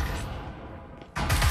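Video-game gunfire rattles in rapid bursts: a loud volley fades out, then after a short lull another dense, loud burst of shots breaks in.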